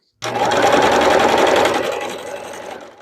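A sewing machine runs a straight stitch along a doll skirt hem, starting abruptly with a loud, close, rapid whirring chatter that holds steady, then eases off over the last second.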